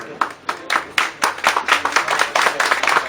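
Audience clapping at an award ceremony held in a restaurant venue, a fairly close crowd of hands with distinct individual claps building into steadier applause over a few seconds.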